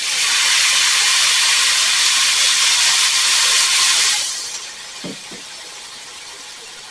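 Loud, steady hiss of a can of Rotel tomatoes hitting a hot pan of browning rice with sausage and peppers, dying down after about four seconds into a quieter simmer with a couple of soft clinks.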